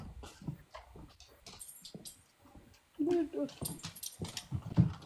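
A pet dog whimpering and yipping indoors in short high whines, some loud and close, mixed in with a person talking throughout.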